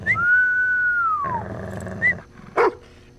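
A dog in the VR shooter Convrgence gives a couple of short barks near the end, after a long sustained whistle and a faint growl-like rumble underneath.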